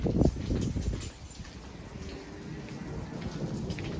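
Rain falls outdoors during a thunderstorm with a tornado warning, a steady dense patter heard up close with a deep rumble of thunder at the start that fades into the constant hiss of the downpour.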